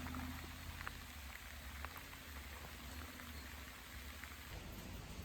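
Steady, dense rain pours down in a continuous hiss with a low rumble beneath, unbroken from start to finish.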